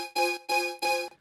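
A synth layer widened with the Doubler stereo plugin in an electronic mix, heard as three sustained harmonic chord swells of roughly a third of a second each, separated by short gaps, loud and alone.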